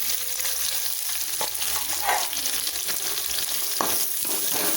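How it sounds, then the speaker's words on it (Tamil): Chopped onions with curry leaves frying and being stirred in hot oil, a loud, steady close-up sizzle with occasional scraping strokes of a spoon. "3 பெரிய வெங்காயம் கட் பண்ணி வச்சுருக்கேன், அதையும் போட்டுக்கலாம்."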